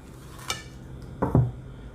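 A sharp knife cuts a keto egg wrap on a plate, giving a light tap and then a heavier knock and scrape against the plate, short and close.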